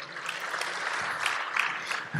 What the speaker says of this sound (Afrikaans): Ek dink dit kan 'n hande klap kry